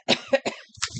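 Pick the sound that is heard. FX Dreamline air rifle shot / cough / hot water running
cough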